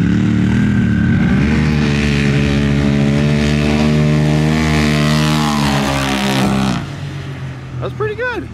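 A Polaris RZR XP Turbo side-by-side, stage three tuned, roars steadily at full throttle down a drag strip, its loud engine drone held for several seconds before cutting off, followed by brief shouts.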